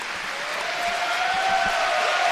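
Applause from the audience at the Swordfish 2018 sword-fighting tournament, building steadily, with a sustained tone running through the clapping.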